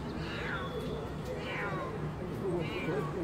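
A cat hanging from a building meows three times, drawn-out and plaintive, under a steady roar of street or traffic noise.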